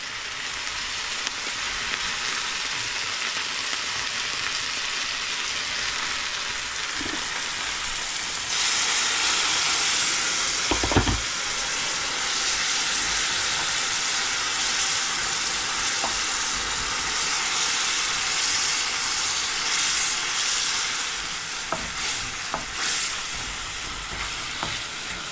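Eggplant pieces fry in mustard oil with onion, a little turmeric and panch phoron, giving a steady loud sizzle that swells midway, with occasional stirring knocks and scrapes and no talking.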